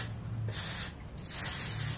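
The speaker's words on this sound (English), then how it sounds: "So I'm gonna add a little more spray to the top." Hair spray hisses from an aerosol can onto hair in two bursts, a short spray then a longer one, close and fairly loud with no talking.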